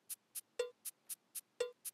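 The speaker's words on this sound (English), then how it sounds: "I've put a cowbell on beat 1 and then 3 cabasses for the next note." A steady metronome click: a cowbell on the downbeat followed by three short cabasa ticks, repeating twice in an even, quick eighth-note pattern.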